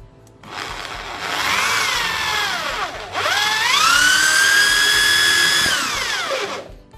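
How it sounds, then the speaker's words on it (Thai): An electric drill bores into a wall at a marked spot, its whining motor rising to a loud, steady grinding pitch, briefly dropping and then ramping up again before spinning down. "เดี๋ยวเจาะตรงจุดที่มาร์คไว้เลย"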